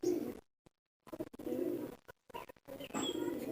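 A pet pigeon coos softly and close by in several short, broken bursts separated by brief silences, with no talking.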